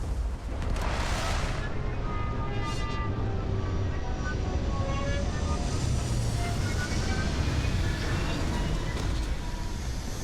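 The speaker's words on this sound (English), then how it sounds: "Beginning landing cycle." A spaceship in Starfield begins its landing cycle with a loud, continuous roaring thrust. Brief whooshing sweeps and rising and falling tones ride on top, and the roar stays sustained throughout.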